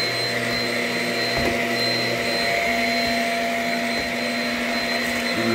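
Shark Rocket self-cleaning vacuum cleaner running indoors, a loud, steady motor whine with constant airflow hiss throughout and a few brief bumps as it moves across the floor.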